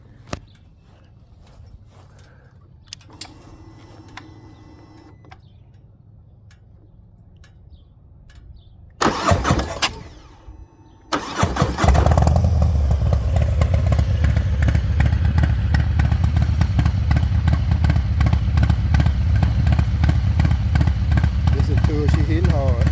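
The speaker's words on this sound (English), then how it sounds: "I'm here to let y'all listen to that Chris Rivas Rocket Cam 464" Harley-Davidson Softail Heritage Classic 114 with a Rocket Cam 464 and Shark Road pipes: faint clatter and footsteps, then the V-twin fires up into a loud, lumpy, pulsing idle with throttle blips, close by.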